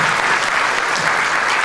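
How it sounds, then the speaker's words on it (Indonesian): Brief, loud applause from a seminar audience of young entrepreneurs, a continuous wash of many hands clapping at once with no talking over it. "Tepuk tangan mereka semua."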